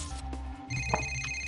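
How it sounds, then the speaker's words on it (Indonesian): A telephone ringing in Need for Speed Most Wanted (2005): a short electronic ringtone with sustained tones over low game background noise, moderately faint and alone. "Ada telepon dari Fitz."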